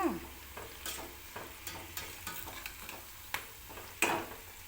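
Cabbage pakoda deep frying in hot oil, a steady quiet sizzle close by, punctuated by irregular scraping and clinking of a utensil in the pan, with a louder scrape near the end.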